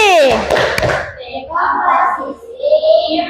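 Children in a classroom sing a rhythmic hand-clapping chant about computational thinking, their high voices carrying the tune, with a couple of sharp claps near the start.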